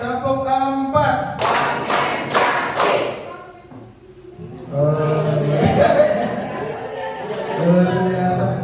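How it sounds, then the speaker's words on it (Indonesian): A class of tenth-grade students claps together in a counted pattern during a teaching workshop, giving a quick run of sharp, fairly close claps between stretches of chatter. "Tepuk 1, tepuk 2, tepuk 3, tepuk 4."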